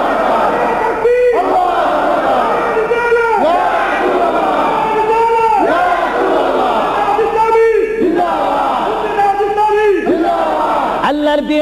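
A large crowd roars the takbir chant in loud, repeated bursts at a Bengali religious sermon gathering, voices rising and falling together across the stretch without pause.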